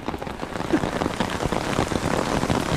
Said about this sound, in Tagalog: Yan guys, inabot na kami ng ulan.